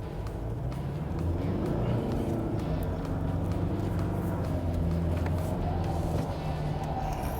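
A Toyota Hilux 4x4 sliding sideways under handbrake, its engine a steady loud drone with low rumble throughout, fairly close.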